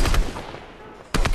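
Gunfire in the battle royale video game Fortnite, a loud rapid burst of shots at the start, a short lull, then another sharp volley at the end.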